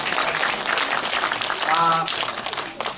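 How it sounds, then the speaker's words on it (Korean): A cinema audience at a film stage greeting event applauds, a dense steady wash of clapping, fairly loud and close, with a brief voice cutting through partway and fading toward the end. "세 분에게 다시 한번 박수 한번 주십시오"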